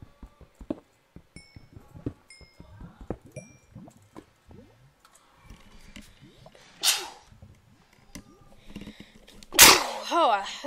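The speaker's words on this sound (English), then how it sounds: "I had to sneeze." A loud, sharp sneeze bursts out near the end, after scattered clicks and a brief blast of noise earlier; a voice speaks faintly in between.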